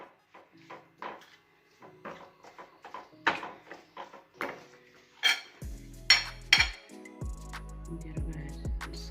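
Spices and water being stirred in a cooking pot for fried sardines, giving a series of soft scraping and clinking knocks, then a few sharper metallic clinks of utensil against pot, close and fairly quiet.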